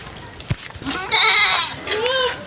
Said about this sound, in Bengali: এই দেখো দুটো ছাগল আছে